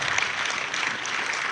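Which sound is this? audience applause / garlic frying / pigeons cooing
audience applause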